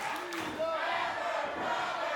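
A wrestling arena crowd roars and cheers in a dense, continuous wash of voices, with a few shouts rising above the din, loud and close throughout.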